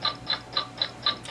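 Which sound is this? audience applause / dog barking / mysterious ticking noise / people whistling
mysterious ticking noise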